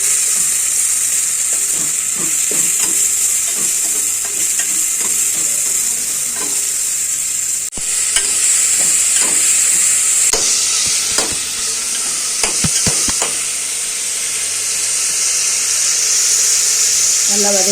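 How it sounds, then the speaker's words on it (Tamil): Onion and tomato sautéing in a pan, a steady loud sizzle with rhythmic scraping stirs and clicking spoon strikes throughout, and a brief thump partway. "அதில் வெங்காயமும் தக்காளியும் ஆட் பண்ணிக்கலாம். நல்லா வதங்கட்டுங்க."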